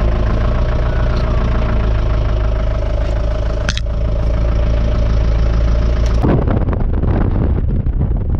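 A camper van's engine runs loud and steady on a drive in Morocco, with a constant low hum and wind buffeting, and a few sharp knocks and clatters near the end.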